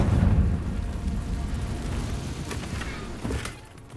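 An explosive Confringo curse blast in Hogwarts Legacy, a loud booming burst that rumbles and decays over a few seconds, with smaller crackling impacts near the end.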